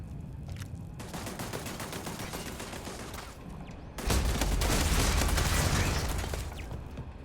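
Starfield gunfire aimed at an enemy, with a steady stream of rapid shots that gives way to a louder, heavier barrage of overlapping blasts midway before easing off slightly.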